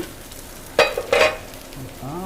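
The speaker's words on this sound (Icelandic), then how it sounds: "Aðeins farið að sjóða hérna." Sauce in a pan starting to simmer and sizzle, with two short bursts of bubbling and stirring against a quiet kitchen background.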